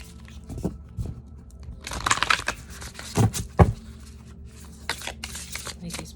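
Tarot cards being shuffled by hand, a series of papery riffles and soft crunchy flicks in short bursts, fairly close, with brief speech mixed in.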